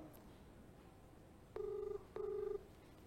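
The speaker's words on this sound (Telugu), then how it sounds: "ఫోన్ ఎంగేజ్ లో ఉంది, వేరే ఎవరితో మాట్లాడుతున్నాడు, వెయిటింగ్ వస్తుంది" A phone call to a police officer rings back as two evenly spaced, clear electronic ring tones over a quiet line hiss.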